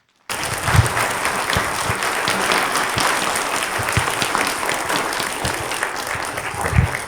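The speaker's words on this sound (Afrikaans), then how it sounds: "Kom ons klap vir hulle hande, julle." A crowd at a Paas Passie Easter evening event breaks into sudden, sustained applause, a dense wash of clapping that starts abruptly and continues steadily for about seven seconds.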